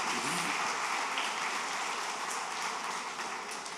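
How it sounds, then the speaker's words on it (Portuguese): A church congregation applauds loudly for the Messiah during a prophetic service, a dense and steady wash of clapping held at an even level from start to finish with no talk over it. "Dê um aplauso bem forte ao Messias."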